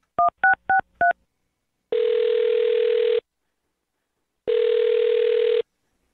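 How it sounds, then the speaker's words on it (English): A phone number dialed as four short, evenly spaced keypad tones, followed by two long, steady ringback tones with silence between, clear and close. "I'm going to dial her phone number right now"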